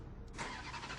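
A Ferrari F430 with its 4.3-litre V8 fires up, a brief low rumble swelling into a steady deep idle, loud and close with no talk over it.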